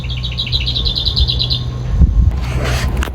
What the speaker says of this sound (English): And bird songs.